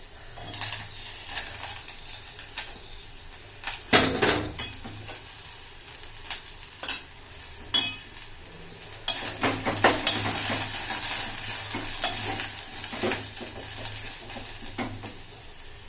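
Ivy gourd frying in hot oil with chilli powder, a steady sizzle broken by several sharp metallic scrapes and clinks as a spoon stirs the pan, with no talking.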